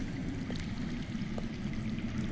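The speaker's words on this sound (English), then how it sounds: "That's water. I hear water. From underground?" Running water flows somewhere underground, heard as a faint, steady rushing stream with a few soft splashes, quiet and distant, and no one speaking.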